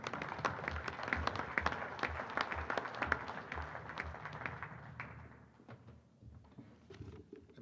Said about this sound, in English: Big round of applause for Bill Byrne, ladies and gentlemen.